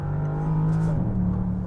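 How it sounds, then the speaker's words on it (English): A Bentley Continental GT V8 engine pulls steadily under load, a smooth droning exhaust note with a slight pitch shift as revs change, heard from inside the car with no talk. "You could already feel the power and the crackling of that exhaust note."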